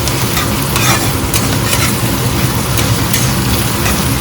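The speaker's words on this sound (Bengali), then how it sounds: "এবার আদা দিয়ে পেঁয়াজটাকে নাড়ান।" Onion and ginger stir-fried in a hot pan give a loud, steady sizzle with repeated scraping strokes of a spatula throughout, no voices.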